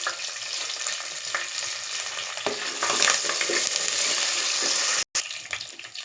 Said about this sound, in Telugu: అలాగే కొత్తిమీర, కరివేపాకు అండి. అన్నీ ఫ్రై చేసేసుకుని బాగా.